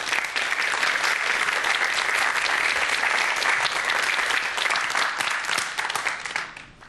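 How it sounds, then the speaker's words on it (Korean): A lecture audience gives warm welcoming applause, a dense, even wash of clapping from many hands that holds steady and then tapers off at the end. "큰 박수로 강연 청해 듣겠습니다."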